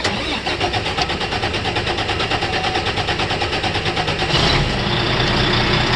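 A truck engine cranks in rhythmic pulses for several seconds, catches and settles into a steady loud idle, heard close from inside the cab with no talking.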